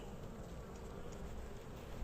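A steady, dense buzzing of many honeybees close by at a hive, a continuous low drone with no pauses and no voices.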